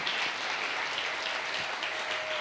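Steady applause from a church congregation, a dense even patter of clapping that holds at a constant level throughout.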